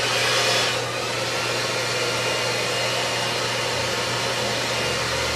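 A hair dryer blowing on damp hair, a loud steady close whoosh of air with a constant motor hum, briefly louder at the start then even throughout, no talk.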